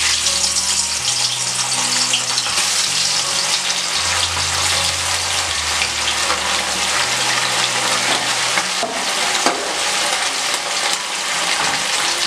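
Amudi fish sizzle loudly in hot oil in a wok, a steady dense frying hiss close up, with a faint low hum beneath.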